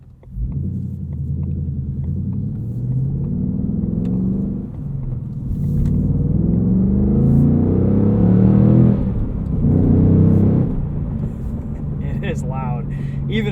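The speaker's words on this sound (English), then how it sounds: "this 5-liter V8 shouts" The 5-liter V8 of a 2022 Ford Mustang Mach 1 with a manual gearbox and handling package rumbles loudly from inside the cabin, rising in pitch as it revs through the gears with brief dips at each shift.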